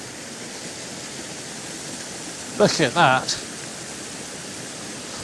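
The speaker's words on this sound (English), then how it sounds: "one of my favourite things is a good waterfall." A waterfall right beside a footpath gives off a steady, even rushing roar that fills the whole stretch, with a person briefly speaking over it partway through.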